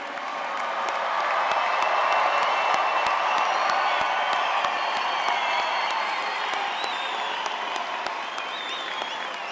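Big crowd at a Wichita State University fall commencement breaks into sustained applause, a loud, dense roar of clapping in a large venue with scattered cheers and whoops, swelling early then holding steady before easing slightly.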